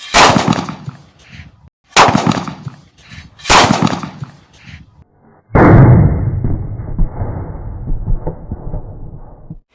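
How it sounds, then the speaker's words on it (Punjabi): Three sharp homemade potash firecracker bangs go off a second or two apart, then a bigger blast with a long crackling, rumbling tail that slowly fades. "ਇੱਕ ਵਾਰ ਫੇਰ ਤੋਂ ਆਪਾਂ ਪਟਾਕਾ ਪਾਉਣੇ ਆ"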